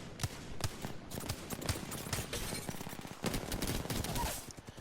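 Wingman pistol fire in the Apex Legends video game on World's Edge: a quick run of sharp, punchy shots in irregular bursts over busy in-game background noise, fairly loud and close.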